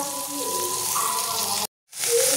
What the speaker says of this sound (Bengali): এটা হালকা করে আমি ভেজে নেব। আমি হালকা লাল করে ভাজবো